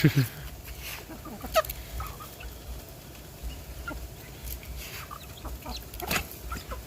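A chicken clucks and squawks in short irregular bursts after being caught by hand outdoors, with scattered rustling and a few faint voices.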